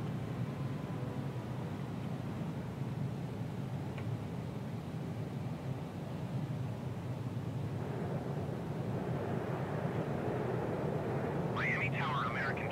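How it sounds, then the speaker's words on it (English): A simulated Air Canada Rouge Airbus A319 lands on runway 8 left at Miami International in Microsoft Flight Simulator 2020, giving a steady broadband jet roar and rush throughout while someone talks over it. "Air Canada Rouge. Airbus A319 landing 8 left."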